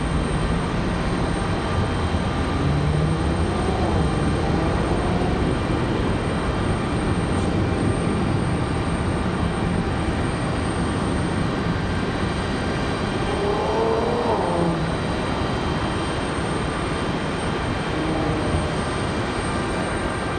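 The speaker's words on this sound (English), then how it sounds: "Looks like Alaska is going to be our next departure." An Alaska Airlines jet departs from Raleigh-Durham International Airport, a broad steady engine roar filling the whole stretch with no clear rise or fade, distant and continuous without any voices.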